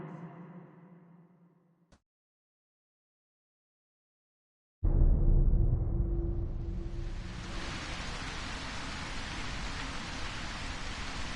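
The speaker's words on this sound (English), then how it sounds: "Thank Christ for the rain." Steady, dense rain pours down in a survival horror video game, swelling in after a brief silence and holding as a loud, continuous hiss.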